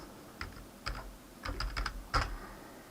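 Keys on a computer keyboard clack in a few quick, close bursts while code for a one-page website is typed, with short pauses between and no talking.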